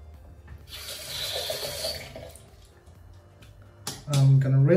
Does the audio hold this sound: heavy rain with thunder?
no